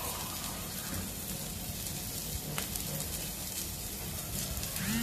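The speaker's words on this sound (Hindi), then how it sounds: "इस तरीके से हमें अनियन को अच्छे से भून लेना है।" Onions sizzle and fry in a pan for chicken kalimirch, a soft, steady crackle heard alone throughout with a brief sharper spike at the end.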